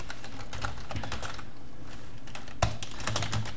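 Steady computer-keyboard typing while C# code is written, with close, continuous key clicks in an uneven rhythm and one sharper keystroke near the end; nobody speaks.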